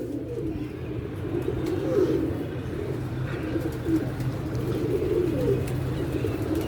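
Pigeons on a village rooftop give a continuous run of soft, rolling coos, close and even in level, with a few faint chirps over a steady low background.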